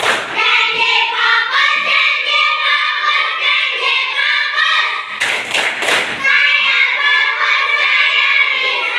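A classroom of children clapping a rhythmic clapping routine together, steady and close, with a brief break midway and children's voices mixed in.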